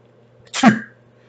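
One short, sharp human sneeze bursts out close and fairly loud, a quick breathy intake followed by a forceful explosive release lasting under half a second, set against a quiet low hum with no talking.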